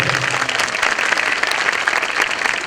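A graduation audience claps loudly and steadily, a dense crowd applause that holds at full strength from start to finish with no voices on top.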